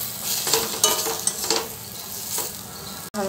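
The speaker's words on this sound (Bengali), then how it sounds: "দিয়ে আমি এখন এটা কষাতে মশলাটা একটু ভালো করে কষে নেব।" Coriander powder and chili powder frying in a pan for a drumstick, mango, fish and potato curry, a steady loud sizzle with scraping stirs and spatula clinks, briefly cut off near the end.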